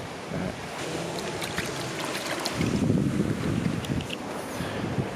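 Strong wind buffets the microphone in a steady, loud roar during a cold, sunny bushwalk in Australia, gusting harder midway with no voices.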